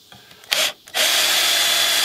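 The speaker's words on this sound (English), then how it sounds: "I'm gonna go ahead and put the screws as far over to the edge" A power drill drives small screws into cedar boards near the edge, one short whir, a pause, then a long steady loud drilling run, close up with no talking.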